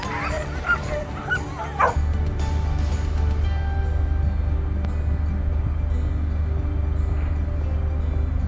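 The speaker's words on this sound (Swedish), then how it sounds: "här har de flera hundra huskyhundar" Many husky dogs at a dog sledding center near Tromsø yip and bark excitedly in the first seconds, then the sound settles into a dense, continuous noise of distant barking and general din.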